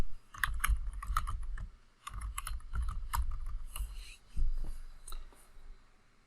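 Quiet, close keyboard typing comes in bursts of rapid keystrokes separated by short pauses, with a few heavier key presses as a file name is entered on a computer.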